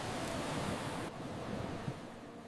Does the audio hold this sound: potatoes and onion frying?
no